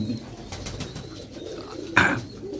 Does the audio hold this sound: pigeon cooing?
yes